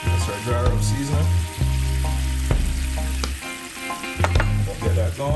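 Honey glaze sauce with sugar sizzles in a pan on low heat, a steady, close frying hiss that swells and eases as it is stirred, with music-like tones underneath.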